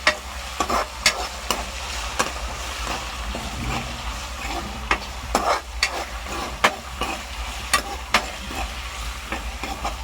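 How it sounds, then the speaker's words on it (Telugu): Turmeric and ginger garlic paste are stirred in a pan for tomato rice, with a soft continuous sizzle under intermittent sharp scrapes and taps of the spoon against the metal, close up and with no talking. "ఇవన్నీ వేసాక కొంచెం ఇలా కలుపుకోవాలి"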